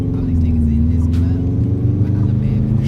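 A tuned Subaru WRX rumbles with a deep, steady engine drone from inside the car while someone speaks over it.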